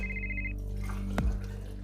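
Telephone ringing early in the morning in Santa Barbara, California: a short run of rapid electronic trill pulses that stops abruptly, followed by a soft thump, over a steady low hum.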